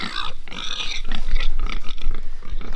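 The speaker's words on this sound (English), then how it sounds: "here's the new pig pen." Pigs grunt and squeal close by in a newly built pig pen on a farm, a busy overlapping stream of snorts and oinks that stays loud for the whole stretch, with no talk.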